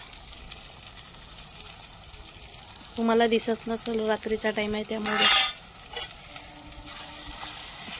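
Chicken masala paste of chili, turmeric and spices hitting a hot kadhai on a wood-fired stove at night, bursting into sizzle with utensil clatter while someone talks over it.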